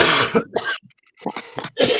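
A few harsh, bursty coughs close to the mic, in two short clusters separated by a brief quiet gap.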